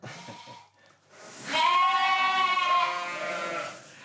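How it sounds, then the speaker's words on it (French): Sheep bleat loudly and close by on a salt-meadow (pré-salé) farm in the Cotentin, one long wavering cry swelling after a brief quieter bleat, with no talk over it. "Salut les moutons."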